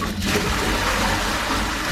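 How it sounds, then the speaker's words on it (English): Water gushes steadily down a blocked kitchen drain gully outdoors, a loud, close, continuous splashing rush throughout with no voices. "we chuck some water down there and the trap is holding water"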